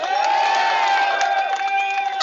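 A loud crowd at a Sydney rally cheers, whoops and applauds continuously for a couple of seconds, a dense wall of voices close by.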